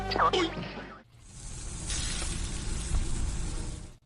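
Dry-aged USDA Prime Wagyu and Angus steaks sizzle steadily in a hot pan, a broad, close hiss that holds for several seconds after a brief burst of sound at the start.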